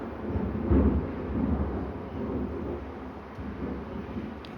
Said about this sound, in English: And that is the thunder.